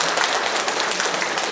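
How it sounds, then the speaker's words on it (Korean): Audience at a Korean community briefing session breaking into a short burst of dense, steady applause, with no talking over it. "큰 박수로 맞으시기 바랍니다"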